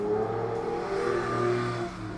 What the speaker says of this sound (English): Why do people have to have really loud exhaust?